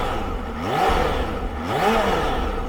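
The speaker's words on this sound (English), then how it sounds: "Let's take a listen to what she sounds like. It's that busy inline four, man." Kawasaki Ninja H2 SX SE supercharged inline-four engine revving up twice in close succession, each rev rising and falling in pitch over a steady, busy idle, loud and close with no talk.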